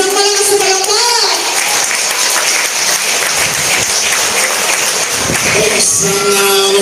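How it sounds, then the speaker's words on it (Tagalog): A crowd at a community gathering in Tondo, Manila claps loudly and continuously, with music-like tones and voices running over the clapping throughout. "Isang malakas na palakpak!"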